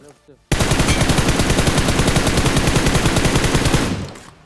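Sustained M416 automatic rifle fire from a video game, a dense rapid spray of shots lasting several seconds, loud and close, then cutting off.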